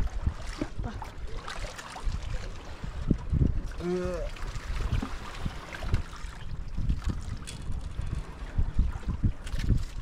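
Wind roars steadily at sea aboard a small fishing boat, a constant broadband rush with gusty microphone buffeting and water noise throughout, while people talk over it.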